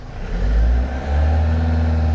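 A 2014 Vauxhall Vivaro van with a blocked DPF has its diesel engine revved up toward 2,500 rpm. It gives a close, steady low drone that swells briefly, dips, then holds at a higher, even pitch.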